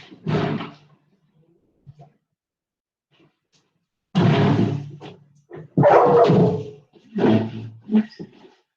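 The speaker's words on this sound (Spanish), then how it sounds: "está el perro ladrando acá" A dog barks in several loud bursts close by, with quiet gaps between them and a few separate yaps toward the end.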